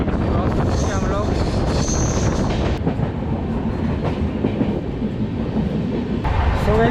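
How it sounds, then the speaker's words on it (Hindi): The Poorva Express passenger train from New Delhi to Howrah rolls along the rails with a loud, continuous rumble and rattle and some rhythmic wheel clatter, heard from on board. "पूर्वा एक्सप्रेस टोटल 5 कोचेस के साथ में रन करती है from new Delhi to Howrah junction"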